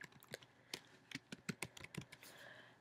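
Quick, uneven keystrokes on a computer keyboard, a burst of close, crisp clicks with short pauses between them and no voices.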